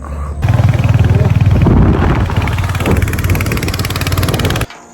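A motorbike engine runs loud and close during a ride, its steady throbbing drone holding from just after the start until it cuts off near the end.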